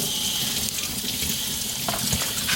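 Water gushes from a tap into a sink in a steady, close, loud stream that swells slightly near the end, with no talking over it.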